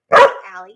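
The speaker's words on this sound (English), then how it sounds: "Sorry about the barking." A single close, loud dog bark, short and sharp with a brief ringing tail, standing alone apart from a name spoken right at the start.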